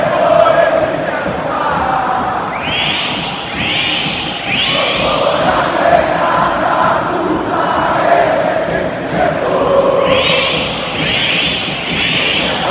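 Football fans at Beira-Rio stadium during an Internacional versus Bolívar match chant and cheer loudly and continuously, with rhythmic massed singing echoing through the stands.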